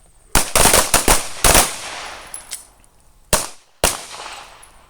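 Handgun shots ring out at a target on a combat accuracy range, several sharp loud reports in quick bursts with one more spaced pair after a pause.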